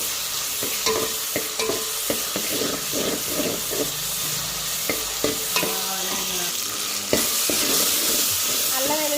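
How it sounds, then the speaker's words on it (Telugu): Ginger-garlic paste frying in oil in a pan for mutton gongura curry, a steady loud sizzle and hiss with frequent stirring scrapes and clicks throughout, no talking. "పేస్ట్ అయితే బాగా పచ్చి వాసన పోయేంత వరకు అయితే బాగా ఫ్రై చేసుకున్నాం"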